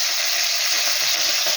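Small parshe fish frying in a pan, a dense, even, close-up sizzle of hot oil that holds steady throughout with no voices.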